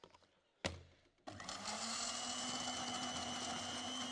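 A blender whirs up to a steady, loud drone after a short thump and a brief pause, blending phones on stage at a gadget show before a live audience.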